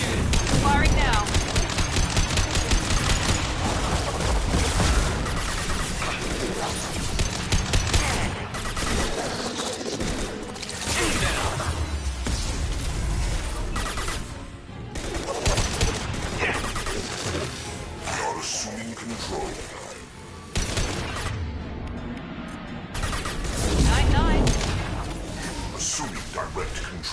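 Sustained gunfire in Mass Effect 2, dense continuous shooting through a chaotic battle mix with brief lulls, loud and near throughout.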